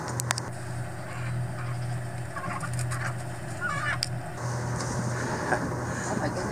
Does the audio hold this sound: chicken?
yes